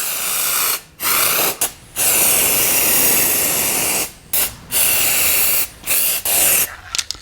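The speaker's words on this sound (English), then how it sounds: "I'm going to use some zinc spray until we do the final painting on the vehicle" Zinc spray hisses from an aerosol can onto a car's inner sill during rust repair, loud and close in long bursts separated by brief pauses, with a few short stops and restarts.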